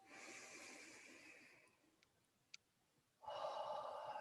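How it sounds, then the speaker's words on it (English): A person takes a slow, deep breath in during a calm relaxation exercise, a soft airy hiss that fades into near silence, a brief click, then a stronger, louder breath sound. "Take another deep breath in"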